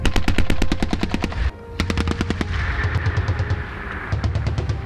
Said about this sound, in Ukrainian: Оператори-навідники відкривають прицільний вогонь з 30-мм гармати